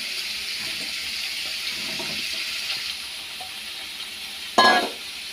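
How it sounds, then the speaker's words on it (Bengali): Soybean chunks frying with salt and turmeric in a pan, a steady hissing sizzle that drops off partway, then a brief louder splash of hissing near the end, close and with no talk. "সয়াবিনটা ভাজবো, সয়াবিনটা এখন ভেজে নেই"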